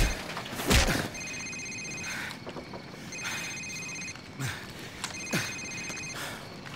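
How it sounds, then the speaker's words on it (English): A cell phone rings in Call of Duty 4: Modern Warfare with three evenly spaced electronic ringtone bursts, each about a second long, over windy outdoor background noise. "Sir, it's his cell phone."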